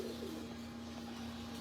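Low, soft cooing from a pigeon in a breeder's loft, a brief murmuring call over a steady electrical hum and room noise.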